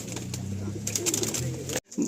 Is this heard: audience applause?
no